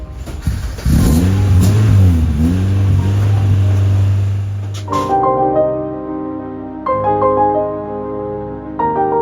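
A race car engine roars and revs loudly, pitch sweeping up and down, then drops to a rough idle with a few sharp throttle blips near the end.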